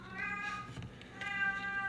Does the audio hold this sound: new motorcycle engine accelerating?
no